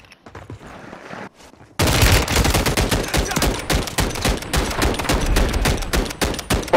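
Rapid bursts of DG-58 rifle fire in Call of Duty, loud and close, rattling in dense volleys after a short quiet opening, with no voices over the shots.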